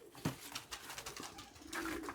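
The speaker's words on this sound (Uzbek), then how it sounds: "Ana kaptarlar." Several pigeons coo close by in a couple of soft, throaty rolling calls, with faint outdoor background noise between them.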